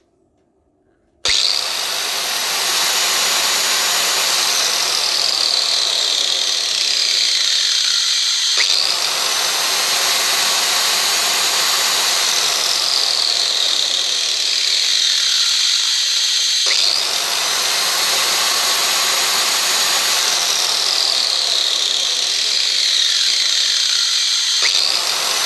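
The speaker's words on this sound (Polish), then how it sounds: "co się dzieje, kiedy włączam i wyłączam szlifierkę." A loud grinder whines up to speed three times, each run ending abruptly in a short silence before it starts again.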